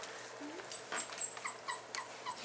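Faint, high whimpers and squeaks from four-week-old standard poodle puppies playing in a living room, several short cries scattered over a quiet background.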